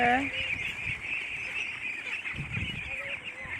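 Ducks on a duck farm give repeated honking quacks over a steady high-pitched background hiss, with low voices murmuring underneath.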